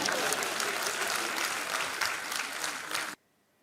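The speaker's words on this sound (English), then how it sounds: "you can clap." Audience applause fills a government awards ceremony, a dense, steady clapping from a large crowd that runs for about three seconds and then stops abruptly into near silence.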